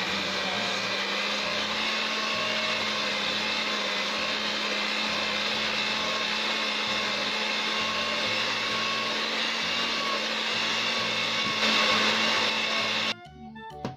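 An electric mixer steadily whirs through ensaymada dough made with yeast, holding a constant motorized drone for a long stretch before it cuts off near the end, close and loud.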